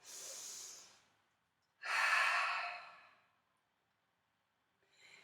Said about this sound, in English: take a deep breath. One more deep breath.